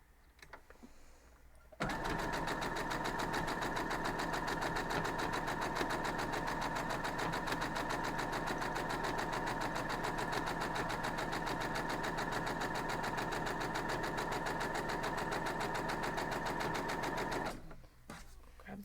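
Sewing machine stitching quilt-block fabric, starting abruptly after a couple of seconds and running at a fast, steady, even buzz for about fifteen seconds before stopping, close and loud, with brief talk before and after.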